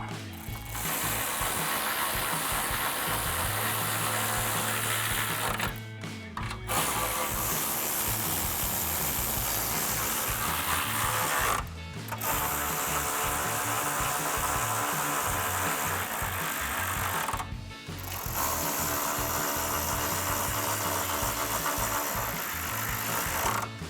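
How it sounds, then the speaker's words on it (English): Four 10mm bolts being driven into a 2019-2021 GMC Sierra 1500 grille with a ratcheting tool: sustained close mechanical whirring in long bursts, broken by three brief pauses. "We're going to install our 4 10mm bolts that we took out."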